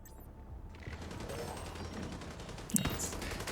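Sustained light machine gun fire rattles through a video game firefight, a dense steady stream of shots at moderate level with a sharper burst near the end.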